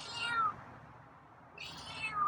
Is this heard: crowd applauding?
no